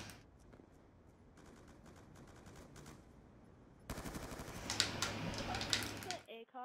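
Gunfire from the video game Black Ops 2 crackles in rapid bursts, quieter at first and then louder and denser near the end, with people talking over it.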